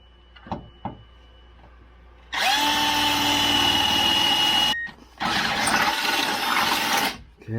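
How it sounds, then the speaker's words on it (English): A power drill bores holes in metal for Land Cruiser rock sliders. After a couple of soft knocks, two loud, sustained whining bursts of drilling follow, each several seconds long, up close, with a short pause between them. "I'm going to drill these 3 holes out."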